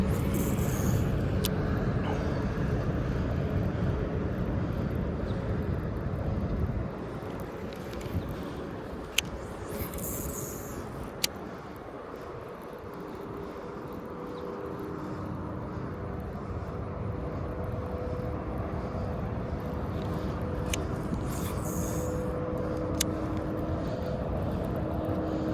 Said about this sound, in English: I hope you can hear me with all the traffic in the background.